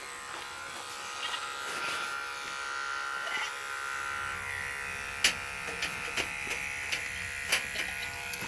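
Electric clippers buzz steadily while trimming the longer hairs on a dairy goat, a close continuous whine with small bumps and clicks as the blades move over the coat, a voice speaking briefly over it.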